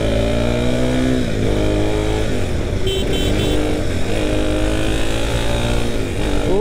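A KTM Duke 390 motorcycle engine revs loud and close, climbing in pitch through several throttle blips before settling into a rough, rising growl.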